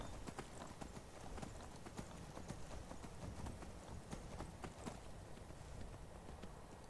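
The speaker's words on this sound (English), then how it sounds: "Always great to find a random horse." Horse hooves clip-clop steadily in Skyrim, a continuous faint rhythmic patter of footfalls with no talking.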